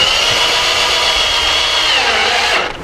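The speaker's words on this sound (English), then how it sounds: "we're just going to put a couple screws in here to hold it nice and firmly in place" Power drill driving a couple of screws into a gutter slip joint on an under-deck roof drainage system, a loud close continuous whine that cuts off near the end.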